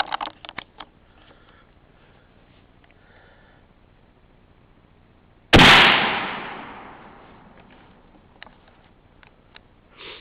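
A Snider Cadet carbine fires outdoors at a pumpkin 50 yards away, giving one sharp, loud report with a long fading tail. Faint clicks of handling the action and ejecting the case come before and after the shot.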